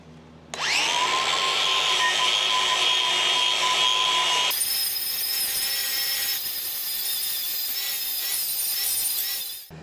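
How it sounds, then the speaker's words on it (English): A Pro Tools angle grinder fitted with a cut brush scours lawnmower blades clean, spinning up with a sharp whine, then settling into a harsh, steady grinding rasp for several seconds before winding down. "My tool of choice is a cut brush on an angle grinder because it's quick and easy."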